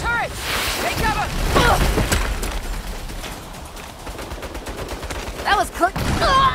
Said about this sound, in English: Turret! Take cover!